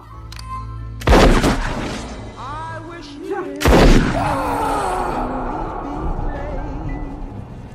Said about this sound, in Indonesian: sebelum pergi, perampok itu ditembak mati oleh ibu kasir